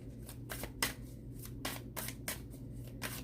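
Tarot cards are shuffled and drawn by hand in a run of crisp, close riffling bursts, about every half second, at moderate loudness with no talking.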